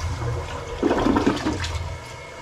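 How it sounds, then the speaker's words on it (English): A household toilet flushes, a steady rushing swirl of water that builds and then drains away, close and alone without any talking. "Give it a flush."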